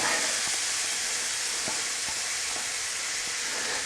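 Onions start to cook in a hot pan for charro beans over lowered heat, giving a steady, even sizzle and hiss throughout with a few faint clicks of movement, and no talking.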